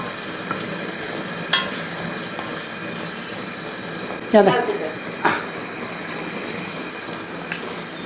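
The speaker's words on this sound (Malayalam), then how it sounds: "ഇനി ഒന്ന് ഇളക്കി കൊടുക്കും." Tomato and drumstick simmering for a Kerala ulli theeyal are stirred in a pan, with a low background sizzle and a few sharp scrapes and clacks of the spoon spaced several seconds apart.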